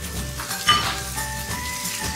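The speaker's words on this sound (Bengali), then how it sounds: "এবার এর মধ্যে আমি চিচিঙ্গা আলুটা দিয়ে দিচ্ছি।" Chopped snake gourd and potatoes tipped into a pan of softened onions, raising a steady close sizzle with a brief clink of a utensil against the pan.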